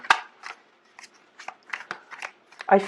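Tarot cards shuffled by hand, a run of quick papery riffles and slaps in an irregular rhythm, close and fairly crisp in a quiet room.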